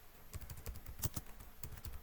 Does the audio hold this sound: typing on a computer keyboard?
yes